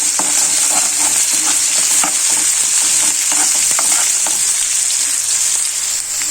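Onions and lengthwise-slit green chillies stir-fried in a pan for a simple potato fry, a loud steady sizzle with repeated scraping stirs throughout and no talking.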